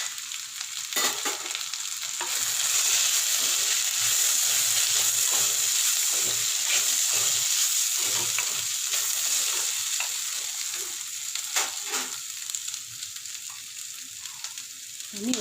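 Onions and potatoes sautéing in a pan with turmeric, chili and coriander powder for a spinach poriyal, giving a steady close sizzle and hiss with repeated scraping stirs throughout.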